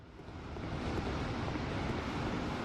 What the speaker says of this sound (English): I've got a fan going in the background